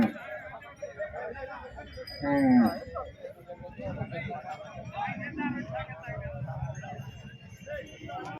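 Large bulls low loudly at Pebbair cattle market amid a busy outdoor crowd, with people talking throughout and a deep bellow standing out near the start.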